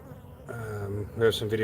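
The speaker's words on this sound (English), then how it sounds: "all these bees coming and going now are either the nurse bees" Honey bees buzz close by around a backyard hive in a steady drone that swells and wavers as they fly past.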